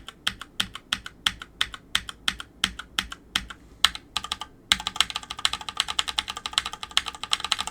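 Rapid keystrokes on an RK61 mechanical keyboard, loud and close, with a steady clicking rhythm that pauses briefly and then turns into a denser, faster burst of typing.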